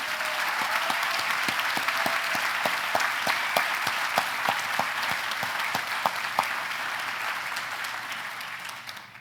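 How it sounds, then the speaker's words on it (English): Outdoor audience applause at a cancer center groundbreaking ceremony, a dense round of clapping with distinct sharp claps standing out, holding steady before tapering off at the end. "Let's give a round of applause to the Taubmans."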